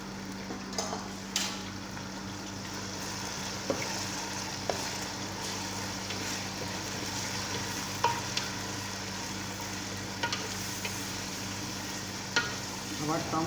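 Tomatoes go into a pan and fry while a fish biryani is cooked, giving a low, continuous sizzle with occasional sharp clinks and scrapes of a utensil against the pan.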